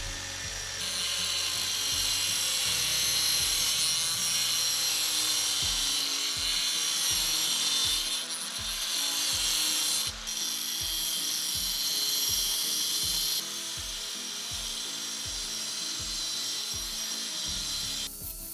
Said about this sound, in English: I actually take an angle grinder to my brand new table saw